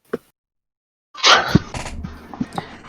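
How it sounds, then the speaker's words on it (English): A person sneezes loudly during a tabletop D&D session, with a quick sharp intake first and then the burst, followed by rustling and short clatters. "I'm gonna sneeze again"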